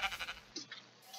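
A sheep bleats twice in an SCP horror video game, a short wavering cry followed by a fainter one, close and alone without speech.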